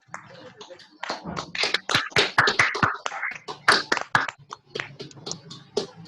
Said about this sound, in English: give a huge round of applause to the outgoing team